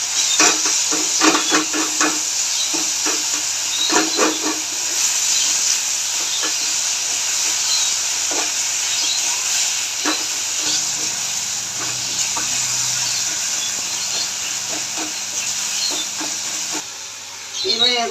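Taro leaves with torn green chilies cook in a pan, making a loud, constant hiss and steam under a run of sharp spatula clicks and scrapes as they are stirred.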